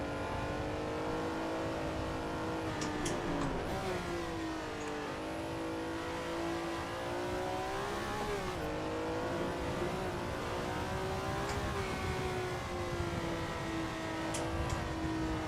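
Race car engine in Assetto Corsa on the Nordschleife holds a steady loud drone for the whole lap stretch, pitch rising and falling through gear changes and revs, with brief whirs and blips on downshifts.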